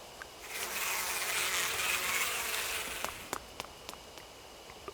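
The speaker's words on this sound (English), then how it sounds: "Full of bees." A swarm of bees drones in the Spirit Hunter: Death Mark video game, a dense buzzing hum that swells for a few seconds then fades, followed by a scattering of sharp little clicks.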